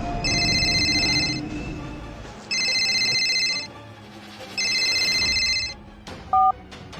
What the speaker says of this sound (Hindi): अगले दिन सुबह विनोद के फोन की घंटी बजी